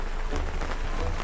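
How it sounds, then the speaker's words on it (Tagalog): Rain falls steadily on a car-camping campsite in Tuy, Batangas, a dense, continuous patter close by with no voices. "Naulan kasi."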